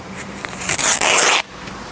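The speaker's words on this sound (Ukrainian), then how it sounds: "Ми розкриваємо пакет." A sealed bandage package is torn open by hand in a first-aid demonstration, giving one quick, crisp ripping rasp of packaging material lasting under a second, close and loud against a quiet room.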